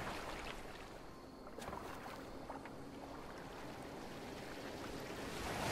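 A boat moves through water in Assassin's Creed Valhalla, a steady, quiet wash of water and waves with faint wind, continuous and unbroken, with no voices.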